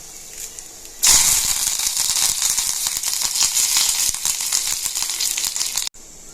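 Mustard seeds, urad dal, dried chili and curry leaves hit hot oil for tempering a tomato chutney, setting off a loud, sudden sizzle and crackle that lasts several seconds and then cuts off abruptly.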